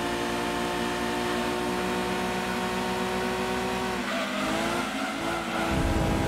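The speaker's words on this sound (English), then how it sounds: "Little skid there." A light K-class car in Gran Turismo 2 drones along at a constant engine tone, with a brief tyre skid and pitch shift near the end; no talk.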